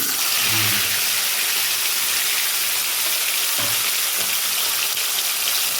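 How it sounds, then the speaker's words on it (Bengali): A large fish fries in a small amount of hot oil, making a loud, constant hiss that fills the whole stretch without letting up. "দেখুন এইভাবে মাছটা ভেজে নিলাম"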